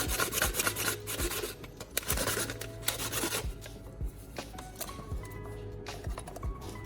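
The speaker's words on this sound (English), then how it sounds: "I rub the bottom of the aluminum can on a piece of sandpaper." Bottom of an aluminum can rubbed back and forth on sandpaper, giving a steady close raspy scraping in repeated strokes that continues throughout without speech.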